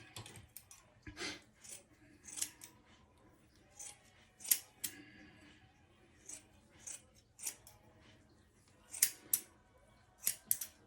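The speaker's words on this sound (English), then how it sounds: "So after I cut all the hair from the wig" Scissors snip hair from a wig in a series of crisp, separate cuts close by, spaced irregularly every second or so over quiet background.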